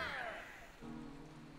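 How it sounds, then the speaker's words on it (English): Soft rain falls steadily in the video game Pikmin 3 Deluxe, a faint even hiss under quiet game tones and a low hum. "It's raining."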